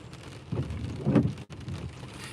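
Rain pours down outside a car during a thunderstorm, a close, rushing wash with a couple of swelling surges that may be distant thunder, and no talk heard.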